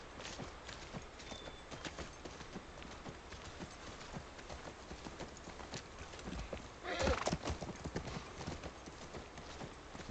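Horse hooves clip-clop steadily in The Last of Us Part I, a horse on a ranch, with a neigh and whinny rising around the seven-second mark over continuous game ambience; a voice speaks briefly.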